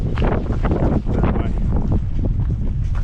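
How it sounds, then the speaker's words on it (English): Strong wind buffets the microphone in constant low rumbling gusts at a mountain campsite in Croatia, with no other sounds standing out. "it's quite windy"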